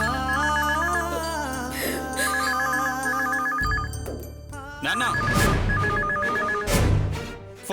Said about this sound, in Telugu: ఫోన్ లిఫ్ట్ చేయకండి.